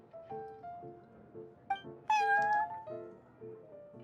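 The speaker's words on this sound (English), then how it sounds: "I thought having a cat take care of our new customers would be quite a nice touch" A cat meows inside the Cat's Tail tavern in Genshin Impact, giving a few clear, fairly close meows with one louder, drawn-out call in the middle, set over soft background music.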